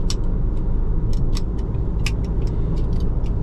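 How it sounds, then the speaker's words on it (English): Eyeglasses rattle and clink lightly, ticking irregularly over a constant low road rumble inside a moving car. "apparently it was the glasses that was making a noise that was really bothering me"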